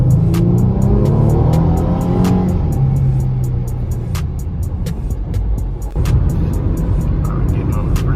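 A car fitted with a cold air intake accelerates onto a freeway, its engine revving up through several gear changes over a continuous road rumble, loud and close from inside the vehicle.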